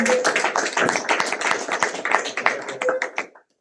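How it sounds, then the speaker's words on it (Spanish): An audience in a church breaks into applause, a dense burst of close claps and taps that tapers off and stops abruptly after a few seconds. "Un fuerte aplauso para Leonardo también."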